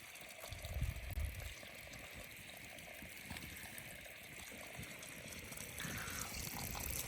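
Water gushes steadily onto washed rice in a cauldron while plov is being cooked, a faint, continuous pouring rush with no voices.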